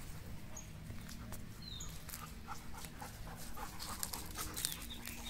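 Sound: Doberman dogs panting after running

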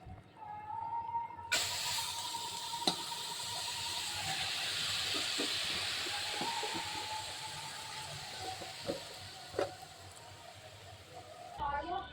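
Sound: spinach frying in a pan until water dries

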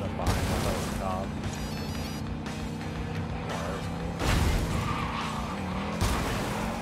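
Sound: car racing up behind in video game Cyberpunk 2077

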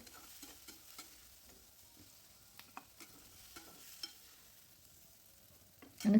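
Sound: masala frying in a pan

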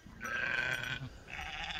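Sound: sheep bleating

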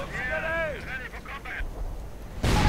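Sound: artillery setting off a mine, from a video game

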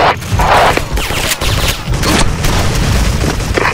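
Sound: grenade explosion in the video game SF RUSH

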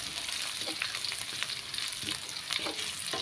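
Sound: stir-frying chili and garlic in a pan

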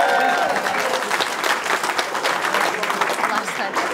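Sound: wedding guests clapping

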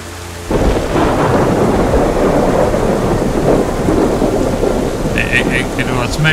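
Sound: thunder during a rainstorm in the video game DayZ

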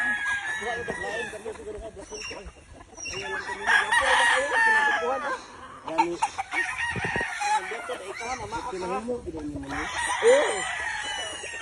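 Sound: roosters crowing at a game farm

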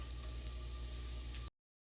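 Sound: cabbage frying in a pan

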